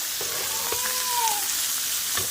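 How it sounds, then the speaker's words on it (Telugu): Fish frying in hot oil in a pan for a fish curry, a dense steady sizzle with crackling pops throughout, close and constant, no talking. "ఇట్లయితే మనకి చేపలు అనేవి చీదరవ్వకుండా బాగా ఫ్రై అవుతాయి ఆయిల్ కూడా కొంచెం సేవ్ చేసినట్టే"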